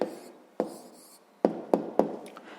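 Pen or pencil writing down a math answer on paper, close and quiet, with a few sharp taps and strokes over soft scratching.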